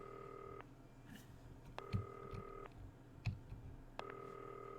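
Telephone in the Not for Broadcast video game giving repeated electronic ring tones, three even bursts spaced about two seconds apart, clear and steady over a low background with faint thumps.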